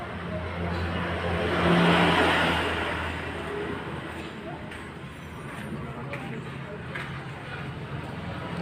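A 2002 Suzuki RC100 motorcycle with its original exhaust runs nearby, a rough, continuous engine drone that swells in a brief rev before settling back to a steady, even idle.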